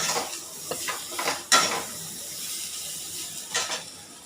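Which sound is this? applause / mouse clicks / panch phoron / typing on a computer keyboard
panch phoron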